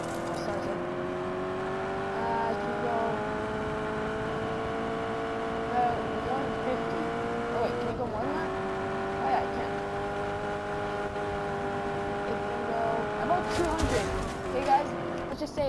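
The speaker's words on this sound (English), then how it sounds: "I'm gonna just give you guys an idea of how this car drives." A fast sports car in Just Cause 3 roars with a strong harmonic engine drone that rises and settles across gear changes, steady and close throughout, with a brief dip near the middle and rougher bursts toward the end.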